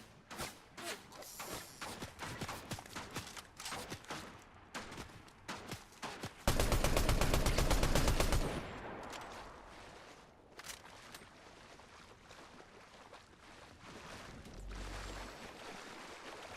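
Automatic assault rifle fire in Fortnite, a sustained loud burst of rapid shots after scattered gunfire and game noise, with other distant shots trailing off.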